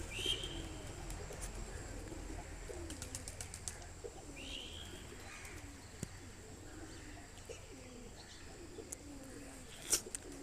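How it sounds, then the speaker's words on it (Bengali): A large flock of pigeons feeding together in the morning coos softly and continuously at a distance, with occasional faint chirps and a sharp click near the end. "কত পায়রা দেখতে পাচ্ছ,"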